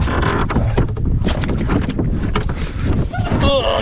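Strong wind roars and buffets the microphone while a canoe is paddled beside a beaver dam, with water sloshing and knocks against the hull all the way through, loud and steady.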